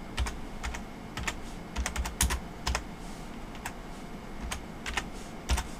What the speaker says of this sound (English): Typing one-handed.